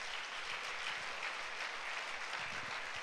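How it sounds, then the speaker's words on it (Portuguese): A church congregation applauds during a Sunday service, with soft, distant and even clapping that blends into a continuous hiss for the whole short stretch. "dê um aplauso a Jesus."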